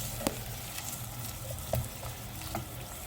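Onions frying in oil until browned, a soft steady sizzle with a few light stirring clicks at intervals, close but quiet with no talking.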